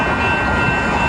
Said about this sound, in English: The next outbound train approaching your station will not stop.